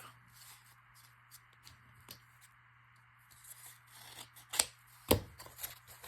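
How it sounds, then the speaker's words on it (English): Scissors cutting a sheet of paper in half for craft belly bands, heard as soft rubbing and scraping paper sounds that build to a few sharper snips near the end, close and quiet. "So let's just cut this in half"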